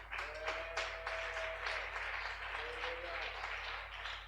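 A church congregation at a French-language Bible study breaks into applause, a dense wash of clapping that swells and fades over a few seconds with voices calling out among the claps.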